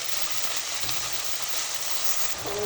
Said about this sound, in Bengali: সুন্দর করে আমি ভাজিয়ে আনি মশলাটা